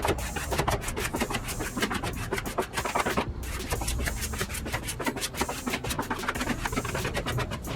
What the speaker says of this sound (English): I like to get it nice and flat first and then go through and squeegee it down.